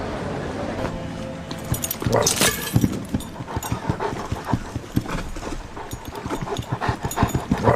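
A dog pants and lets out a few barks amid busy movement and jingling sounds in a film scene, fairly close and steady throughout, with scattered thumps and a possible voice underneath.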